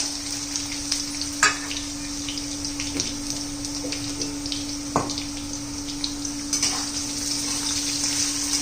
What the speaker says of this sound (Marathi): बटाटा परतून घेऊया.